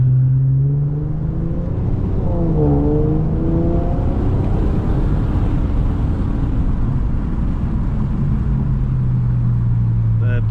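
A boosted Infiniti Q50 running 20 psi accelerates from inside the cabin, its engine rising through the revs in a smooth, muted drone with a shift midway and a steady road rumble.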